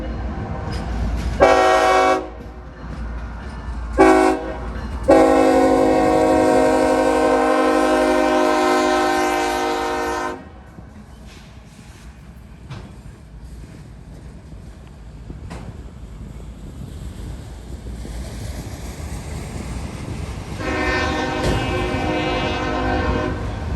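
Two trains pass at a railway crossing: a loud horn sounds two short blasts and then one long blast, followed by a low rolling rumble of rail cars, and another horn blast comes near the end.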